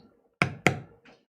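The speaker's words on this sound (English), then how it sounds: "Oh, now you're beveling again." Two sharp, close mallet blows strike a bevel stamp while leather is tooled into a geometric mandala design, a quick pair of knocks followed by a softer tap, with no talk.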